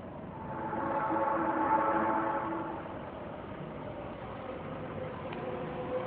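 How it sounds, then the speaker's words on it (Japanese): An Osaka Municipal Subway Nagahori Tsurumi-ryokuchi Line train rumbles in, swelling to a broad roar then settling into a steady lower drone as it slows at the platform. "2番線に到着の電車は大正行きです。"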